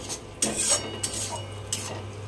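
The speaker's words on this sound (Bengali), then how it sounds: "এবার চালটা অ্যাড করে দিয়ে চালটাও মশলার সঙ্গে ভালোভাবে কষিয়ে নেব" Rice being stir-fried with spices in a pan for a fish-head muri ghonto, heard as a few sharp metal scrapes and clinks of a spatula against the pan over a steady low hum, with no talking.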